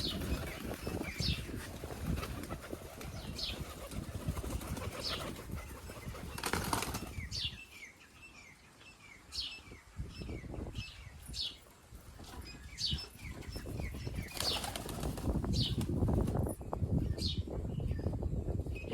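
Bursts of wings flapping from several roller pigeons, with softer rustling and a quieter gap in the middle before the flapping picks up again.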